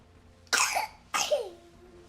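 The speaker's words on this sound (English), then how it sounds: "your cough sounds terrible" A child coughs twice in quick succession, close and loud, each cough harsh and rasping with a short ringing tail and a brief quiet pause between them.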